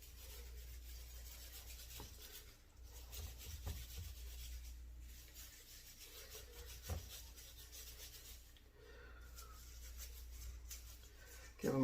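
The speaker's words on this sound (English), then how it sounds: "Give them a quick little scrub with a wire brush." A wire brush scrubs soaked, grimy engine parts for a shortblock build with soft, continuous rubbing strokes. The scratching is faint and low, with occasional small knocks and no voices.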